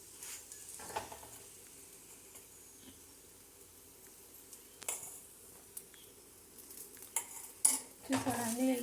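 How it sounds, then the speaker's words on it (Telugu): Methi paratha fries in oil on a pan with a soft, quiet sizzle, broken by clinks and scrapes of a utensil against the pan that grow busier toward the end. "ఆయిల్ వేసి 2 సైడ్స్ ఫ్రై చేసుకోవాలి"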